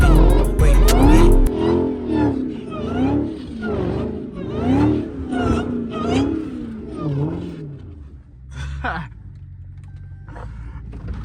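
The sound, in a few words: Dodge Hellcat engine revving while drifting in snow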